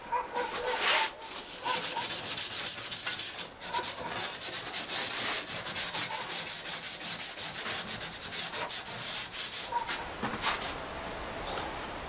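A triangular hand file rasps in quick, rhythmic back-and-forth strokes against the edges of a sheet-metal Christmas tree, close and steady with a few short pauses and no talking.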